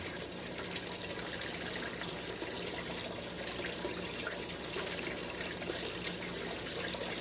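Water runs steadily over a Miller gold table during a gold clean-up, a constant close rushing wash with no pauses and no talk.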